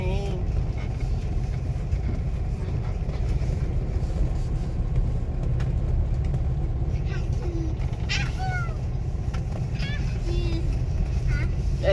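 Car driving slowly during a driving lesson, a steady low engine and road rumble throughout with occasional faint squeaks, a voice heard briefly over it.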